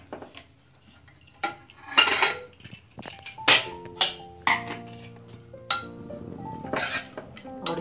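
A cooled pressure cooker and steel pots handled while checking cooked whole urad dal, close metallic clinks, clanks and scrapes coming in irregular bursts, with a faint ringing after some hits and no talk.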